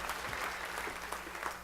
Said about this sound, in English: Give Linda a round of applause.